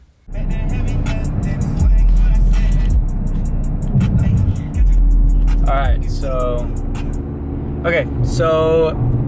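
A 2019 Toyota Corolla Hatchback engine drones steadily with low exhaust rumble through a newly installed 2J Racing mid pipe, with a couple of revs, while someone speaks briefly over it.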